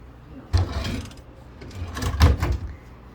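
A big dresser drawer in a Courtyard by Marriott hotel room near Mall of America slides and thuds shut twice, each a dull knock with a short scrape, up close with no talking.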